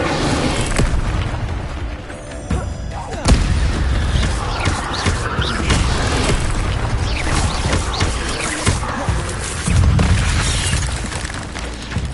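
Booming fire-spell blasts and crackling bursts in the Hogwarts Legacy video game, a dense, loud run of repeated impacts lasting the whole stretch.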